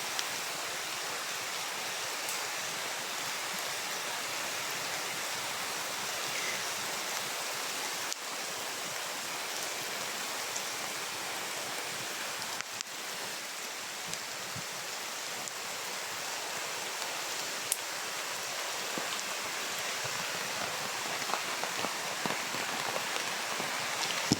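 Heavy rain pours steadily, a dense even hiss of drops striking surfaces, with a few louder splashes and knocks scattered through.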